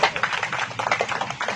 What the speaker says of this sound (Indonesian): Tepuk tangan Ibu Lucy